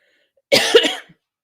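One rough, close cough, brief and throaty, followed by silence.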